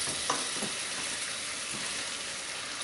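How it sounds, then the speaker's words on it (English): Greens and other ingredients are stirred around in hot oil in a wok, with a constant close sizzle broken by a few scraping strokes of the utensil and no talk. "Kind of stir it around a little bit, let everything kind of get exposure to that oil."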